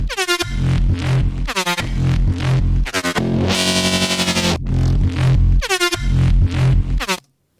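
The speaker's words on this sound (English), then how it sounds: "if we solo the bass, we can clearly hear that the bass area is going away for each kick hit" Soloed distorted drum and bass bassline in Bitwig Studio, sidechain-ducked so the low end drops away on each kick hit, giving loud choppy pulses with a sustained buzzing stretch in the middle, then a sudden stop.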